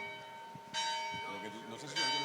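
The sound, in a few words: church bells ringing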